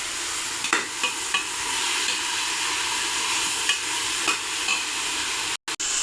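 Chopped coriander and mint sauté in a pan for coconut rice, a loud continuous sizzle with a few stirring scrapes, then a brief cut near the end.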